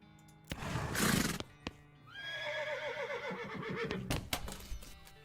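A horse in the video game West of Loathing gives a loud, wavering neigh, preceded by a few thumps and a burst of noise.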